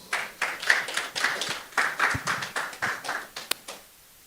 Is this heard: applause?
yes